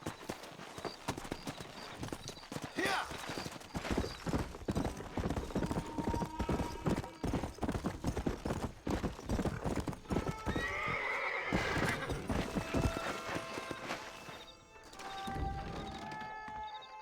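Horse hooves clip-clopping at a steady rhythm with a loud neigh and whinny partway through, from the Red Dead Redemption video game, close and prominent with little talk over it.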